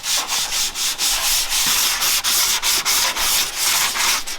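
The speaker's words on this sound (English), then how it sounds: "hand sanding with 180" Steady rhythmic rasping of 180-grit sandpaper rubbed back and forth by hand, close and loud, with regular strokes and no voices.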